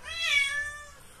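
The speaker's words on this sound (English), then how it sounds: "cat's howling at me" A cat howls on a morning, letting out one drawn-out, rising and falling meow that is fairly close and clear and lasts just over a second.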